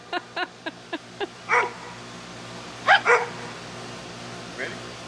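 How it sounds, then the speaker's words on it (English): A dog gives a quick series of short barks, then a few louder yips after a pause, with a faint bark at the end. "Why is he barking now, though?"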